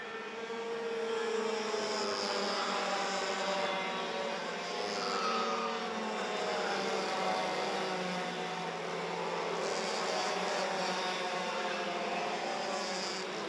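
Racing karts on a formation lap around the Quartier des Fagnes circuit in a Mini class heat, a continuous buzzing engine drone from several machines holding steady throughout, moderately distant with no talk.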